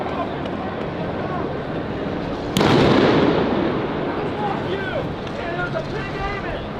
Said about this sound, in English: Oh, they're shooting from above,